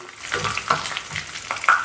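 A tadka of a pinch of mustard seeds, a little cumin, four garlic cloves and four dried chilli pieces frying in oil for mint chutney: a close sizzle broken by quick pops and crackles, no voices.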